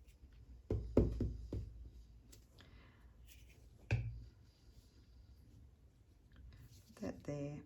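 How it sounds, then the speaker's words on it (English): A rubber stamp is pressed onto paper at a papercraft desk, giving a quick cluster of soft, close thumps and taps, then one more firm thud a few seconds later, with quiet rustling between. "And then I think I'll stamp on it."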